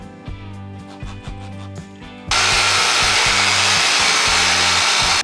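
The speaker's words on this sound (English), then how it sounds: "a little bit of water on, and then wet sanded. And I'm now using 400 grit paper." Loud, steady abrasive hiss of wet sanding wood with 400 grit paper starts abruptly partway through and continues to the end, following a quieter stretch with a low tonal hum. The wood is a truck bed for a 1966 Chevrolet C-10.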